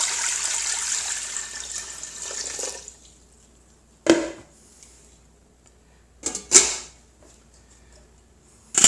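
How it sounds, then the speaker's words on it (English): Tap water gushes loudly into a cooking pot for about three seconds and then stops, followed by a few sharp clanks and knocks of the pot being handled in a quiet kitchen. "put some water in."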